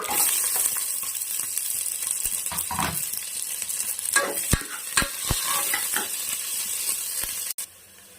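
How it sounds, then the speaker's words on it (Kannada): Onions stirring and frying in a pan for sprouted gram sambar, with mustard seeds and a bay leaf already in the oil; a steady sizzle throughout, broken by several sharp ladle scrapes and taps against the pan. "ಈರುಳ್ಳಿ ಚೆನ್ನಾಗಿ ಫ್ರೈ ಆಗಿದೆ."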